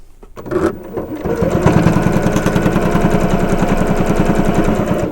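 A sewing machine stitches straight quilt binding in one loud, close, steady burst of rapid, evenly pulsing needle strokes, starting after a few brief clicks and running to the end.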